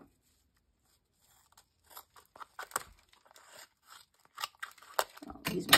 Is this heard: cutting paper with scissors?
yes